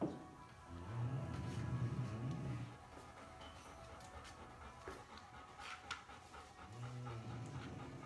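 A puppy pants in quick, rhythmic breaths, two short bursts separated by a quiet pause, close and fairly soft.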